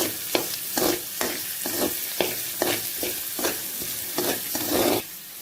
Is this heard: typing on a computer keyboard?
no